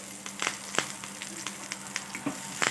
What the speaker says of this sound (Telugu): ఇలా చిన్న చిన్నగా కట్ చేసుకున్న ఉల్లిపాయ ముక్కల్ని వేసుకుందాము కొంచెం కరివేపాకును వేసుకోవాలి